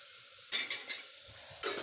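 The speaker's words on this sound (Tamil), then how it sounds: "இப்போ இந்த அடுப்பில் கடுகு, உளுந்த பருப்பு போட்டுட்டு" Mustard seeds and urad dal tempering in a pan on a stove before carrots are added, heard as a few short crackling, clattering bursts close by, with quiet gaps between them and no talk.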